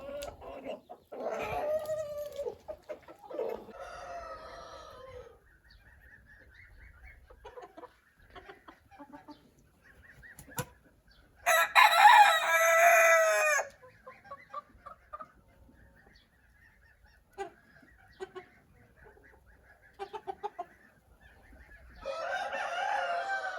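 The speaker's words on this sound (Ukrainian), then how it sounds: "Такі наші курчата, кури." A mixed flock of hens clucks in bursts close by while a rooster crows loudly in the middle, with quieter stretches between calls.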